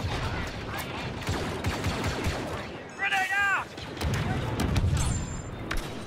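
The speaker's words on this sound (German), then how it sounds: "Da wurde das Ding wieder mal schön beschossen." Blaster and gunfire in the sci-fi shooter Star Wars Battlefront 2, rapid cracking shots and bursts with a short whistling electronic tone mid-way, loud and close, with someone talking over parts of the action.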